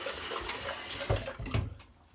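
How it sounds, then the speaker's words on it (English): Tap water runs briefly into a sink for a hand rinse during a shave with a shavette razor, a close, steady splashing stream lasting about two seconds. "I gotta rinse a bit of that off"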